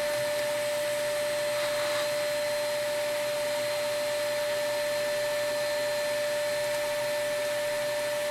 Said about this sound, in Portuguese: Aqui para essa base a gente vai utilizar só um aspirador de pó aqui